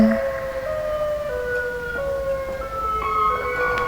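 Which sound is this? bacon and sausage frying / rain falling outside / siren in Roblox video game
siren in Roblox video game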